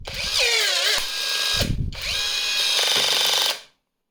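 A Revolt RG20/4.8 cordless rivet gun sets a rivet: its electric motor whines loudly in two bursts, the pitch dipping and rising, then holding steady before cutting off abruptly into silence.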